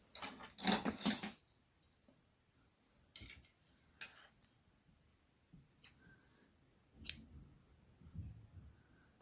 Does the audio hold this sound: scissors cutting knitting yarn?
yes